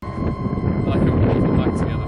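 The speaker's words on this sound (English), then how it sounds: "as you can tell, it's very windy when we're filming this" Heavy outdoor wind buffeting the microphone, a loud low rumble with gusty roaring that continues without a break.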